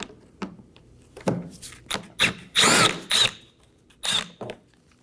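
Power drill backing out a 7mm screw beneath the bumper of a Chevrolet Equinox, in several short whirring bursts separated by pauses, close and fairly loud, with a few light clicks and taps in between.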